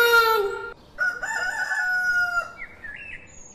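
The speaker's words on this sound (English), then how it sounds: "A is for hen." A rooster crows in a full cock-a-doodle-doo, clear and close, with a brief second call after it and no talking over it.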